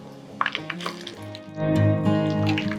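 Mustard seeds and green chillies spluttering in hot oil in a pan, a soft steady sizzle with scattered small pops and crackles, no talking.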